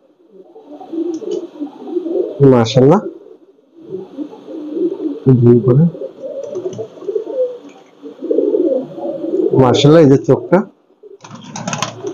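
Pakistani Teddy pigeons coo softly nearby in repeated bursts while someone talks over them.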